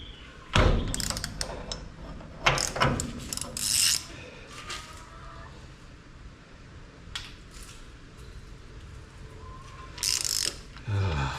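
Ratchet working loose a very tight fitting during extractor installation, bursts of loud ratcheting clicks and metallic clunks separated by quieter pauses.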